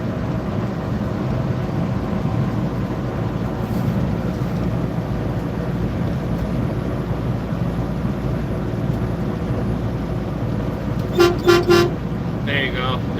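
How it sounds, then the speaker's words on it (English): Truck horn at night giving a few short honks near the end, heard over a steady low rumble of engine and road noise in the cab. "There's the truck horn for you"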